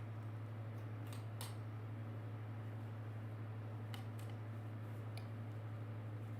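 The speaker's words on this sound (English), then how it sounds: "I'm sewing with all of my fans on today." Steady fan hum from a ceiling fan and a desk fan running together in a muggy sewing room, a constant low drone throughout with a few faint clicks and snips on top.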